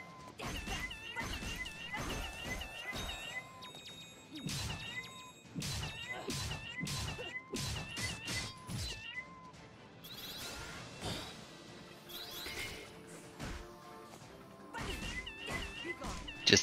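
A cat boss meows repeatedly in the video game Indivisible, loud stylized cries amid rapid hits, whooshes and crashing combat effects with steady game music underneath.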